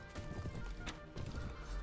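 Horse hooves clopping in an irregular rhythm in the video game Mount and Blade: Warband, fairly close, with a brief whinny partway through; no one speaks.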